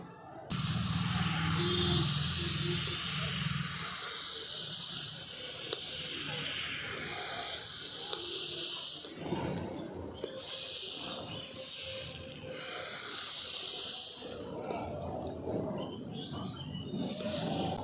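Thin rice flour batter spread around a hot pan for Bengali patisapta hisses and sizzles steadily, loud at first and then quieter with uneven fluctuations, with no talking over it.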